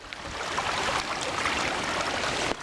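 A flash-flooded river rushes over a washed-out waterfall that has become a rapid, a loud, continuous broadband roar of churning water, close and steady throughout without speech.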